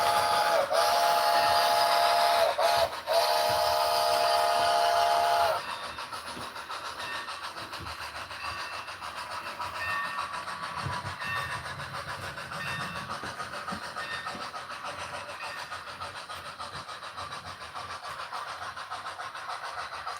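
A model steam locomotive, number 29, whistles loudly and steadily for about five seconds, then runs on with a continuous hiss and rolling rumble through the rest of its lap.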